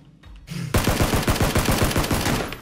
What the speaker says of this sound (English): Oh, shooting up into space.